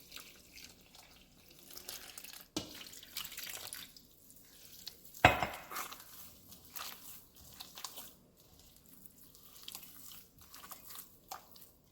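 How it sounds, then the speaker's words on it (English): Warm water is poured into masa dough that already holds salt and a little oil for bean and cheese pupusas. The trickling and splashing are faint, with one sharp clatter partway through, and no one talks. "And then warm water."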